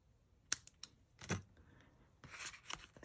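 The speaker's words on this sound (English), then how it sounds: "let's get a little snip here" Scissors snip paper for a card fold, giving several short, crisp cuts close by, with quiet gaps between them and no talk.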